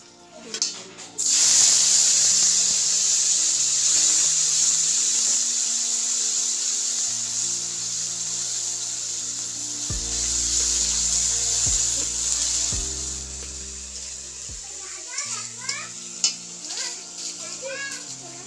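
Ground spice paste hits hot oil with potato and pointed gourd, giving a loud, bright, continuous sizzle that fades slightly, with a few stirring scrapes near the end and music underneath.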